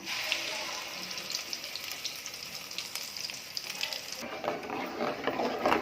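Ground masala frying in oil and ghee over a low flame, a steady close sizzle and crackle with soft stirring scrapes, growing a little brighter toward the end.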